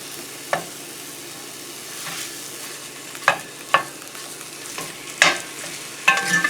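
Sausage frying in a hot pan for homemade pizza topping, a steady sizzle punctuated by several sharp scraping knocks as a utensil breaks the meat apart, close and clear with no talking.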